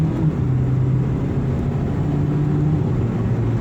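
Mitsubishi Lancer Ralliart with its turbocharged engine pulling at half throttle under boost, a steady close drone of engine and road noise that holds throughout without a break.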